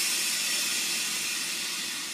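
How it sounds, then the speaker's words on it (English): A Breville Bambino espresso machine's steam wand gives a steady, loud, broadband hiss that holds constant throughout with no talking. "Now you do notice when you're steaming, it keeps pushing steam"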